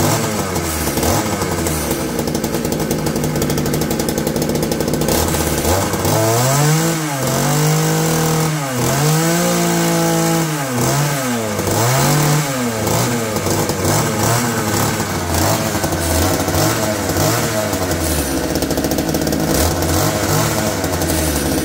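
Cheap Frontier chainsaw engine running, a loud buzzing two-stroke idle broken by repeated throttle revs that climb and drop in pitch, close up and sustained throughout.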